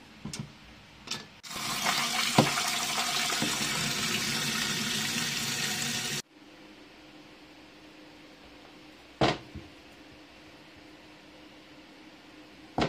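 Vegetables for a pumpkin soup being rinsed under a running tap: a loud, steady rush of water for about five seconds that cuts off abruptly, followed by quiet with a few isolated knocks.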